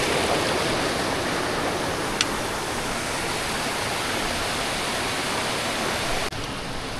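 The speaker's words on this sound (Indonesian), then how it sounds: "Jadi luas sekali lebar sungainya" A wide river at Torean on the Rinjani trail rushes in a steady, loud, broadband roar, continuous and close, with a brief click near the end.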